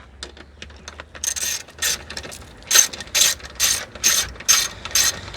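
Ratchet bolting a JL Audio car audio system part into place, a series of close, loud, evenly spaced ratcheting bursts with short pauses between strokes.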